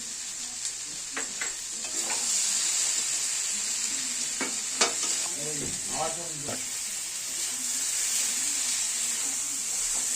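Chana dal, potato and masala frying and being stirred in a pan for a Bengali banana-flower ghonto, a steady sizzle with scraping stir strokes clustered mid-way, close and moderately loud, no speech.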